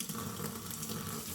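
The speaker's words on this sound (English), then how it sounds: "If the pressure of the water is high enough, then you push this button, the spray will stay on." Moen Riley pull-down kitchen faucet running in spray mode, a steady hissing rush of water held constant and close throughout, with no talk.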